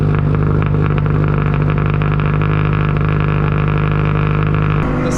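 A 2011 Subaru WRX engine idles after a cold start through equal length headers, a catted downpipe and an Invidia Q300 catback exhaust, a steady loud rumble that drops in pitch near the end.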